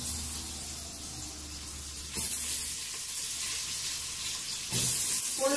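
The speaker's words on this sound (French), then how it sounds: "Quand la matière grasse est bien chaude, j'y mets mon oignon" Chopped onion goes into hot fat in a pan and sizzles steadily, with two sudden louder hissing bursts along the way.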